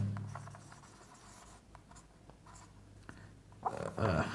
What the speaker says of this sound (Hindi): सबसे पहले लिखते हैं जंक्शन